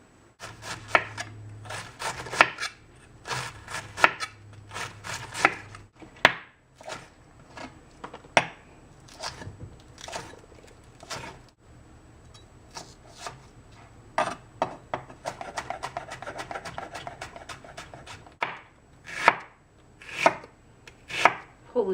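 A knife chops through a potent onion on a board in a home kitchen, with quick rhythmic runs of cuts broken by short pauses and no talking.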